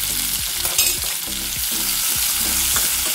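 Green chillies, cashews and onion sizzle steadily in hot oil while a spoon stirs them in a rhythmic scraping pattern, close and alone, in preparation for a palak paneer gravy.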